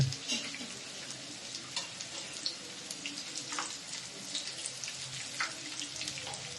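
Hot oil sizzles and crackles steadily as bottle gourd fritters fry, with fine popping bubbles, close up, a continuous frying hiss with small bursts throughout.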